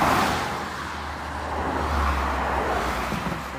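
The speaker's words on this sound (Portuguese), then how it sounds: "Olha os carros ali." Cars travel a winding mountain highway near Urubici in Santa Catarina, Brazil, making a steady broad road rumble that swells as a vehicle passes fairly close, with no talk.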